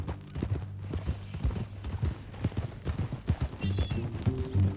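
Horse hooves clip-clop steadily in Red Dead Redemption 2 at a ranch setting, a close, regular rhythm with a brief whinny, under low background sound and occasional faint voices.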